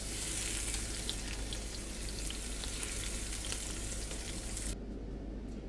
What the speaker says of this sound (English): heat up some olive oil, put some chili and garlic into the pan, and toss your large prawns into it